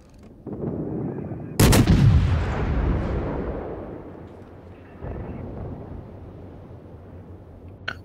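Cruisers in a naval video game fire heavy shells, with a loud booming blast that rolls and decays over several seconds, preceded and followed by softer distant gun reports.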